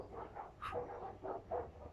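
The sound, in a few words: dogs barking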